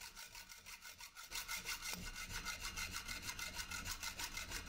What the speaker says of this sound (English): I can use a hacksaw to get them cut down to length